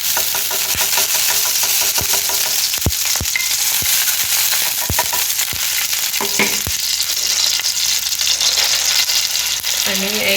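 Vermicelli roasts in Amul ghee for sewaiya, a loud, steady sizzle and crackle broken by sharp clicks and scrapes of stirring against the pan.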